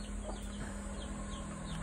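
A mother hen in a chicken cage gives soft, scattered clucks over a steady low hum, fairly close.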